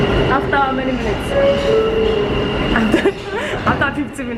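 A New York subway train rolls along with a loud, steady rumble inside the car, punctuated by thin metallic wheel squeals that rise and fade.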